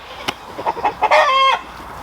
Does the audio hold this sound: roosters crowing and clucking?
yes